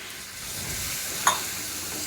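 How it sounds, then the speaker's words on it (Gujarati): Water splashes into a hot pan of sizzling beetroot spice mix, a brief loud hiss bursting over the steady frying sizzle and stirring, with no one talking. "ખાલી 2 થી 3 ચમચા જેટલું આપણે પહેલાં એમાં પાણી નાખશું"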